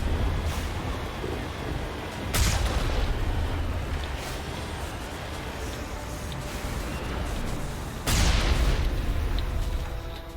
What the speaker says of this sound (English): I have a cannon with explosives.